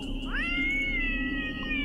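A single cat lets out one long, drawn-out meow that rises at the start and then holds steady, heard close over a low indoor hum.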